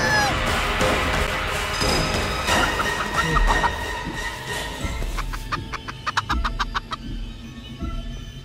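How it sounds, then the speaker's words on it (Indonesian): A giant rotten chicken in the horror game Chicken Feet clucks and squawks over a dense, noisy game soundtrack, followed by a run of sharp rhythmic bursts near the end. "Ternyata di sini pun dia muncul, alamak, ayam busuk raksasa ini."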